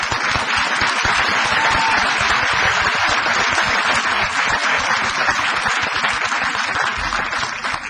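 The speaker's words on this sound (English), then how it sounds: "Let's give everybody a big round of applause" Audience applause at a city council meeting honoring student councils, steady, dense clapping continuing throughout without pause.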